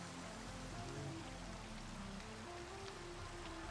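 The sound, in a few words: rain in the video game Minecraft modpack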